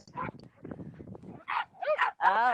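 Dogs at an animal rescue give a few short yips and whiny barks at close range, following a stretch of people talking.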